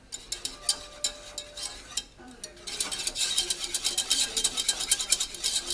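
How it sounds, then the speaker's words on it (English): Cheese being stirred into a hot jalapeno cheese sauce just off the heat, a steady run of close scraping and clinking strokes against the pan that grows busier and louder partway through, with no talking. "we're going to stir in the cheese"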